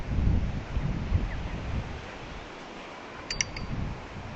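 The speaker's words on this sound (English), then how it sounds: "it has just got a little bit windy" Wind gusts at Naseby battlefield buffet the microphone in low, rumbling bursts, easing off briefly before picking up again.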